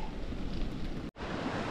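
Rushing water surges steadily around a boat on a ride to Barangay Inagawan, a broad roar with wind buffeting the microphone, cut by a brief dropout before resuming.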